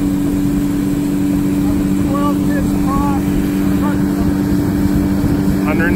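A 2007 Boston Whaler Montauk 150 boat with a 60 horsepower outboard and an 11 pitch prop runs on a lake, a loud steady engine drone with wind and water rush throughout.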